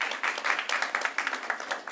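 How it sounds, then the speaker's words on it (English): Scattered applause in the audience at a board of education meeting, a brief burst of rapid clapping at moderate distance, with faint voices beneath. "The clapping"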